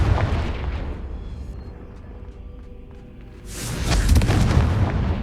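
A Confringo fire spell bursts in Hogwarts Legacy, a deep booming explosion swelling up loud and full partway through, over a low rumbling game backdrop.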